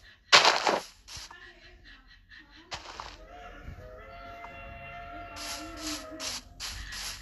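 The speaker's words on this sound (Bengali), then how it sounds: "আমরা টিএনটিতে বম ফুটাবো।" A TNT explosion in a video game goes off as a sharp, loud blast near the start, followed by a second smaller burst about two seconds later, then light clicking and tonal game sounds.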